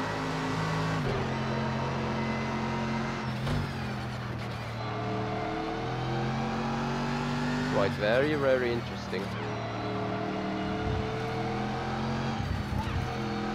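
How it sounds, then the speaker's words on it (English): A Mercedes SLS GT3 race car in Project Cars 2 with a steady, droning engine note that rises and falls through gear changes, heard under a voice talking. "basically you have to drive this GT3 car as it is"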